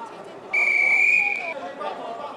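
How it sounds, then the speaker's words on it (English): A referee's whistle at an 80-kilogram wrestling match gives one sustained, shrill blast of about a second over the murmur of the arena crowd, with a commentator speaking around it. "Whistles blown."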